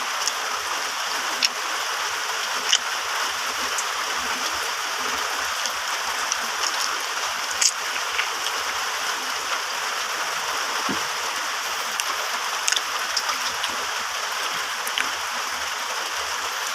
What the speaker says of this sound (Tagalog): So medyo maulan, alam niyo naman.